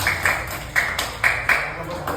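Classmates applaud together in a classroom, a steady beat of claps about twice a second ringing out over a murmur of voices.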